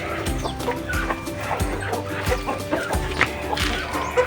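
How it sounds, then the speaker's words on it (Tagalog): Brooding hen in a crate, giving repeated low clucks in an uneven rhythm, close and clear, with faint background noise and little talking. "dito na naman sa may crate naglilimlim yung manok na yan"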